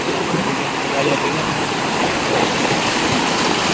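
A flowing creek rushes in a loud, steady, broadband wash of water, close by and continuous, with people talking at times over the flow.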